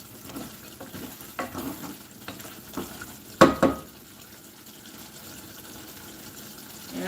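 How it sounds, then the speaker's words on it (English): Bean broth simmering in a pot, with a soft, steady bubbling hiss and a few louder clinks and knocks scattered through the middle. "So I'll just let it simmer a little bit here"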